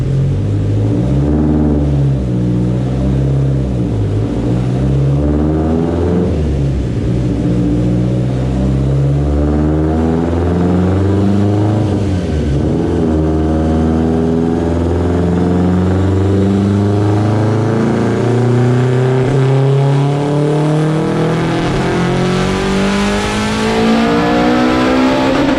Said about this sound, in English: We had a good run on the dyno with Steph's car.